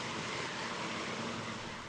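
A large firefighting helicopter flies overhead, its rotor and engine noise forming a steady, loud broadband roar that holds evenly throughout with no voices.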